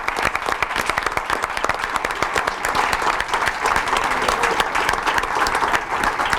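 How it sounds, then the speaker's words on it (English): Steady, dense applause from an audience at a board of education meeting, honouring a middle school team, with many hands clapping loudly and evenly throughout. "let's give a round of applause for our Ridge Middle School team"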